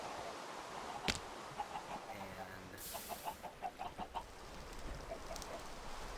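Minecraft chickens cluck in a chicken farm within the video game, a run of short, soft clucks in a quick cluster midway, moderately quiet over a faint background hiss.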